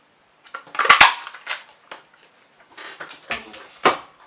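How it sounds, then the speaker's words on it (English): A decorative label punch presses out a paper sentiment for a folded card, with a couple of sharp close clunks followed by scattered clicks, rustles and small handling knocks. "taking my decorative label punch, pop that sentiment out"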